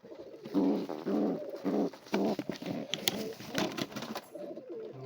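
Pigeons coo in a group, soft rounded throaty calls repeating in uneven bursts close by, with a few sharper sounds mixed in and no talking.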